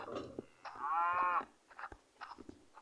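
A cow moos in the video game SurvivalCraft, one long clear harmonic low, followed by softer scattered game sounds; no one talks.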